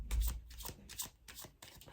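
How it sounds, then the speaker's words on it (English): Tarot cards being shuffled by hand, a quiet run of soft riffling and sliding flicks in quick uneven bursts, close and alone. "so I will shuffle again"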